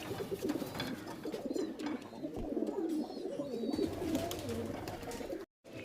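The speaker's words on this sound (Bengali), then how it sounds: "এই যে পায়রা" Pigeons at a loft sale, including old-bloodline Kalshira and Rajasthani birds, coo repeatedly in a dense, continuous chorus close by, with faint wing and handling noises; no words are spoken.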